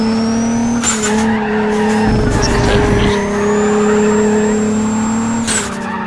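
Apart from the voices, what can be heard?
race car accelerating at full throttle in Need for Speed: ProStreet video game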